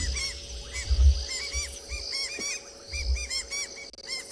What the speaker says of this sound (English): You can hear the birds are not happy about it. Southern white-crowned shrikes.